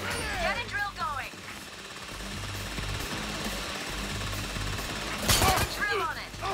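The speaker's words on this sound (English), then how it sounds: "Get a drill going." A heist drill runs in the video game Payday 3, a steady, loud mechanical rattle that grinds on continuously, with game noise and bursts of voice over it.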